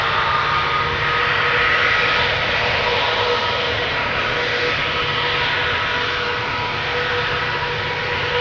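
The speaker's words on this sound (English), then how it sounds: "KLM flight 733 going to Curacao, already spooling up. 777-200 Air, the PHBQA." A KLM Boeing 777-200, about 20 years old, spools up its jet engines for takeoff toward Curaçao at Schiphol's Polderbaan, a loud, steady, broadband roar with a slight whine, close and unbroken for the whole stretch; no voices.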